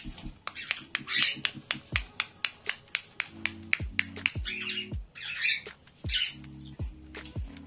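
Pet cockatiels squawk and chirp in short sharp bursts close by, repeating irregularly through the stretch amid clicking and tapping sounds.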